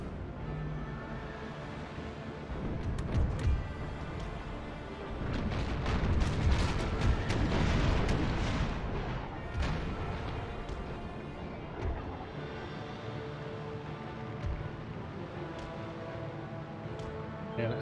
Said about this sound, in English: Open fire, we've already taken out one of their guns.